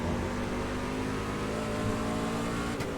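Race trucks roar around the North Wilkesboro short track in a sustained loud engine drone, the motors holding high revs continuously with no talking.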